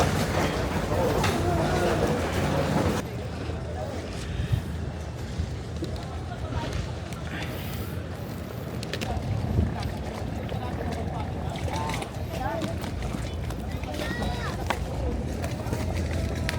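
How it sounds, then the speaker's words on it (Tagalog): Steady rumbling engine and rushing water of a boat underway at sea heading to Boracay Island, with wind buffeting the microphone and voices talking over the constant drone. "sasakay tayo ng barko or bangka rather"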